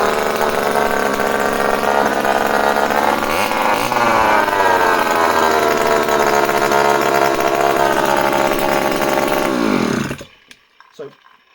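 A small two-stroke chainsaw engine runs loud and steady at close range for about ten seconds, with slight changes in revs, then cuts off abruptly into near silence.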